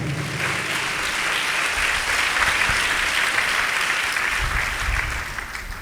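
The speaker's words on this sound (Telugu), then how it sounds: "చప్పట్లు కొడదాం గట్టిగా సంతోషంగా" A congregation at a Palm Sunday church service bursts into loud, sustained applause that holds steady at full strength for several seconds, dense and close, with no speech over it.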